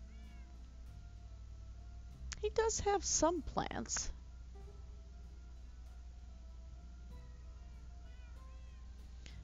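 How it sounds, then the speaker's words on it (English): A cat meows in a short burst of several calls mid-clip, loud against a steady background hum, with a voice speaking briefly before and quiet sounds around it. "is doing some serious meowing tonight"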